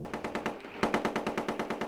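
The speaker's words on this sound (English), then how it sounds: "There was more gunfire around Basra today as British troops moved inexorably towards the city centre." Rapid bursts of automatic gunfire around Basra during the 2003 Iraq war, with regular evenly spaced shots in two runs. They sound moderately distant and rattle steadily with no voices.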